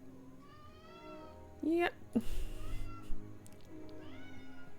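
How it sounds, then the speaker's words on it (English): A cat meows and yowls insistently, several rising and falling cries close by, while a person talks briefly between the calls. "Oh, now I have a second cat in here yelling at me."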